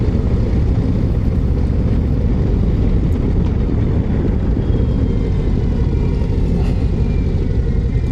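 A 2025 Harley-Davidson CVO Road Glide Raven Fade motorcycle rides along with a continuous loud, dense low engine rumble mixed with wind roar, steady without breaks.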